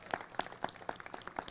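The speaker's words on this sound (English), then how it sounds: "Give him a warm round of applause." Sparse, faint hand claps from a small audience at an evening mural unveiling, a thin irregular patter heard from a distance.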